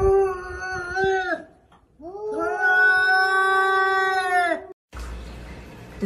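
A house cat gives several long, drawn-out meows, loud and close, with short pauses between calls, followed by a brief burst of kitchen noise.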